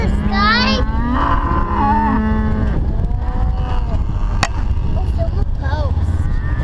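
Cattle moo on a farm, a few long drawn-out calls in close succession near the start, then fainter lowing with light background noise.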